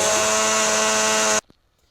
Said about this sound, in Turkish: Hemen şöyle bir blenderdan geçiriyorum.